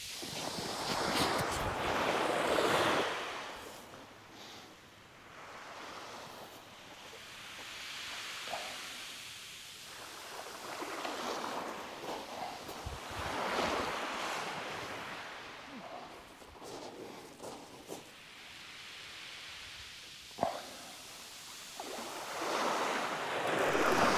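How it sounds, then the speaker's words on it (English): Wind and surf roll along the shingle of Chesil Beach, broad hissing waves swelling and fading every few seconds under gusty wind buffeting the microphone, with brief faint speech. "It's a bit windy."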